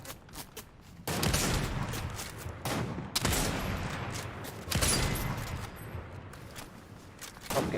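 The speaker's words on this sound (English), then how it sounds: "there's like 14 guys firing on the battleship up here" Many soldiers open fire on a battleship in a video game battle. Loud bursts of rapid gunshots come in several clusters, separated by brief quieter gaps.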